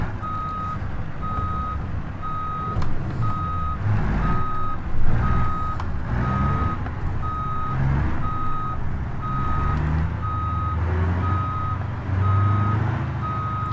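A truck slowly backing a trailer, its steady reversing beeps repeating evenly over a continuous low engine rumble with occasional brief air hisses.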